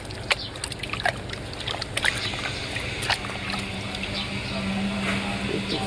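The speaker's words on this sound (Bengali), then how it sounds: "এখন আমি পানিতে চুন গুলে নিচ্ছি।" Lime powder being stirred into water for washing a chicken coop, soft sloshing and splashing with a few knocks against the container, close and moderate in level.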